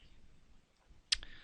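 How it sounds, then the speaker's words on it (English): A single crisp mouse click on a computer while working in Photoshop, short and close, after a stretch of quiet room tone. "we can simply click in the box and type in our whatever one we would like"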